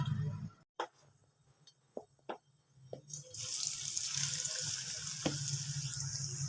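French fries dropped into hot oil for frying: a few soft clicks and knocks over near-quiet, then a loud, continuous bubbling sizzle bursts in and keeps going, close and dense, with no talking.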